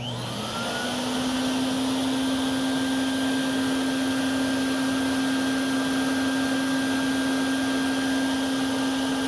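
A Filter Queen 112B Limited Edition vacuum cleaner with a 5.1-inch single-stage motor runs on its low setting, spinning up in the first second and then holding a loud, steady whine and rushing airflow.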